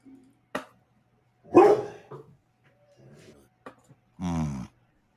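A pet dog gives a few sharp barks and yips indoors, spaced out and fairly faint, with quiet gaps between them.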